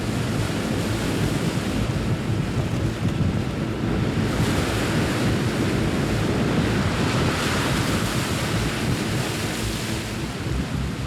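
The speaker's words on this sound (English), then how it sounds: "But the rising swell doesn't help the launch." Heavy ocean swell and strong wind at sea during a rising storm in Antarctic waters, a continuous loud roar of surf and wind buffeting with no breaks.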